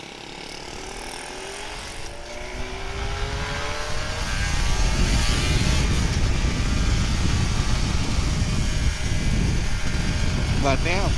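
A Kawasaki Ninja RR 150 two-stroke motorcycle on a morning ride revs and climbs through rising whine under steady road and wind noise, near and continuous, with people talking over it.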